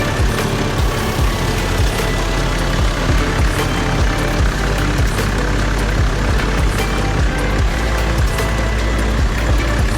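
Engine of a 4WD running at a steady idle with belts and fan spinning, a loud continuous rumble heard close up with a constant whirr and no talking.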